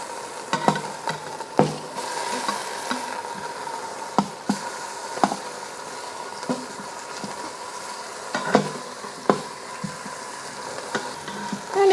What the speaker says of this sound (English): And if you want, you can sear the back side of the ribs as well